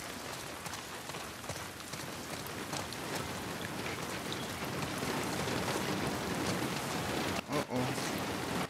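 Steady rain pours down in a forested area in The Last of Us Part 2, a dense even hiss with patters of drops that continues throughout.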